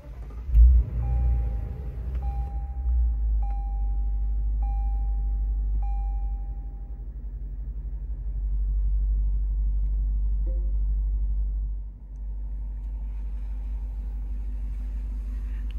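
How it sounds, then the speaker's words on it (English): A 2022 Lexus IS500 Launch Edition engine turns over with a brief burst, then settles into a steady, deep idle rumble with a faint high whine, heard close and without talk. "Let's go ahead and start the vehicle."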